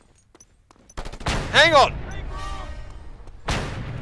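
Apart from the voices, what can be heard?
rifle gunfire in Just Cause 2 video game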